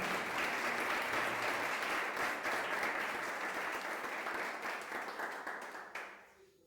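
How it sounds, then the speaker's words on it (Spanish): A church congregation applauding during a sermon, a loud sustained wash of clapping from many hands that fades out in the last second. "Dale ese aplauso al Rey."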